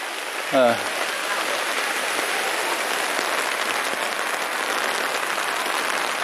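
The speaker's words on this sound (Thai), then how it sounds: "ข้ามมาแล้วฝนตกอย่างแรงเลย" Heavy rain pours steadily over a boat crossing the Mekong, a loud continuous hiss of drops throughout, with a brief voice near the start.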